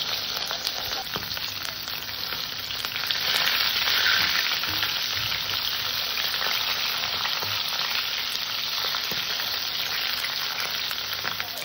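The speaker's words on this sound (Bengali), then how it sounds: "তেলটা গরম হয়ে গেছে, আমি মাছ ছেড়ে দিলাম" Salted, turmeric-coated pieces of catla fish fry in hot oil with a loud, continuous sizzle that swells slightly after a few seconds. No one speaks.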